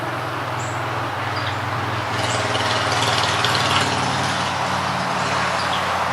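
A motorcycle with high handlebars passes close by, its engine rumbling in a droning growl that swells louder partway through, amid traffic noise.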